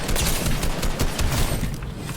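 Gunfire in the Fortnite video game rattles in a dense, continuous barrage of rapid shots, loud and close, with no pause throughout.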